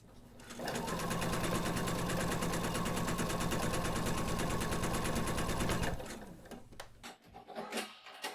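A sewing machine stitching a shoulder bag runs steadily and loudly for about five seconds, then stops, followed by softer handling noises and faint speech.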